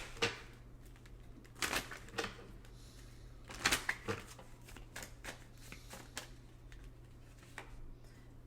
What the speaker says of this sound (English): pull one card from here.